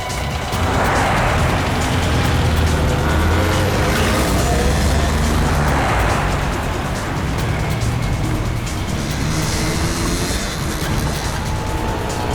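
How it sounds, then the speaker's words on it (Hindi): A car driving, a steady loud engine drone and road roar heard from close by, continuous with slight swells, no talking. "वो रही गाड़ी, उसका पीछा करो।"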